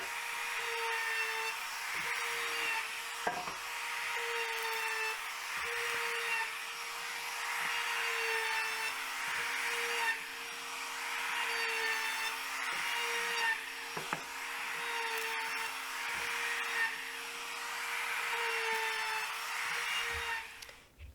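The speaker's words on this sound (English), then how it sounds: "I'm just going to put a round over on all the pieces." A power router runs a round-over bit along the edges of sanded wooden pieces for a farmhouse coffee table, a steady whining motor broken by repeated passes that rise and fall, with a few brief knocks between cuts.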